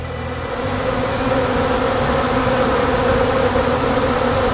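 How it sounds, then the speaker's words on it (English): A dense, steady buzzing of many bees swarming close by, continuous and loud throughout with no talking. "Now that's a lot of bees."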